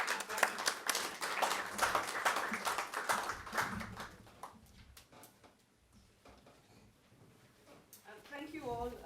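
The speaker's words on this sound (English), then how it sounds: "A round of applause, please, for the panel." Audience at a memorial panel event for Stephen P. Cohen claps for the panel, a lively burst of individual claps for about four seconds that tapers off into room noise before a voice speaks.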